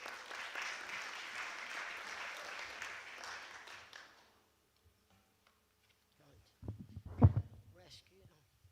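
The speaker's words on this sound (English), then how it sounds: "Give her a big round of applause." Concert audience applauding, a dense wash of clapping for about four seconds that fades out, followed by silence and then brief close handling noises.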